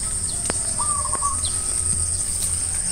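Racing pigeons call in an outdoor setting, with scattered short chirps and tweets over a steady insect drone and background hiss.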